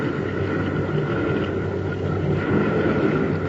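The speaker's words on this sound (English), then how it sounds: "Sounds like those boats are getting a little closer." Steady engine drone of approaching boats over water, a continuous low rumble that holds constant and swells slightly toward the end, with no voices.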